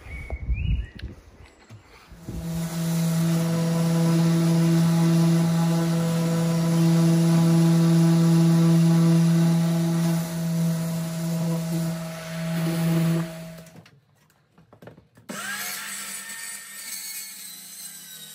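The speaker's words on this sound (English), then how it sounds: "Let's get the sander out, I reckon." A power sander runs on wood in a timber-frame garden room workshop, a loud steady motor hum and buzz that starts up after a moment, holds for about ten seconds, then stops, followed by fainter rustling handling.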